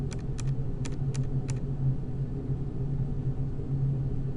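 A computer mouse clicks a handful of times in quick succession, sharp and close, then stops, leaving a steady low hum.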